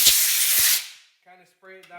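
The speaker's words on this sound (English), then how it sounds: "Then I just take the air hose" A compressed air hose blasts a loud hiss of air for under a second while clearing residue near a junior dragster flywheel, then cuts off, followed by short tonal mechanical squeaks.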